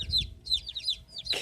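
Newly acquired chickens cluck nearby in short, repeated bursts, three or four quick calls in a row, ending with a brief rustle.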